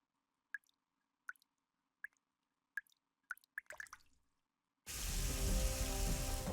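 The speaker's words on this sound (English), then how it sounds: "Water's coming from the ceiling!" Water drips from a ceiling in the game NIKKE, with six or seven sharp, isolated drops falling at a steady pace and quickening toward the end, before a sudden loud wash of broadband noise takes over.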